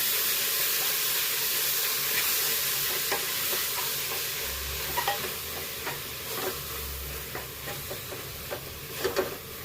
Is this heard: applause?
no